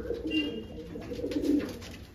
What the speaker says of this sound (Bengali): দেখে নিন পায়রাটা, খুবই ভালো স্ট্যান্ডের পায়রা